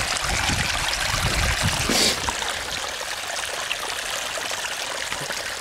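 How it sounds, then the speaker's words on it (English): Meltwater from a melting snow patch runs as a small stream on a mountain near Tromsø, a steady broadband trickle and rush heard close up without talk, with a brief louder splash partway through. "We have a patch of snow here that has melted and turned into a stream here"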